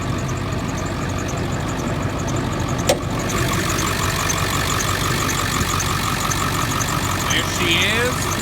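A 2001 Ford F250 with the 7.3 Powerstroke diesel at about 150K miles idles steadily with a low, even rumble close by, and a brief sharp tick lands partway through.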